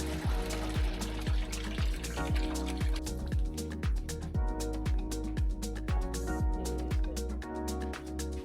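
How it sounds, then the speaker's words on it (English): Fermented rice poured into a barrel, a continuous wet splashing and gurgling pour with rapid repeated drips and slaps running steadily throughout, fairly close and alone. "then pour the fermented rice into the barrel to get things going"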